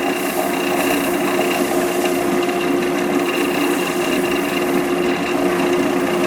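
Wood lathe running on slow speed with a sycamore bowl mounted, a steady close motor hum and whine that holds even throughout with no talk.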